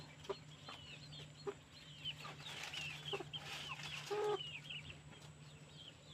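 Free-range black Hmong chickens cluck and call close by as they peck at garden vegetables, with short bursts of clucking and chirps over a quiet farmyard hum.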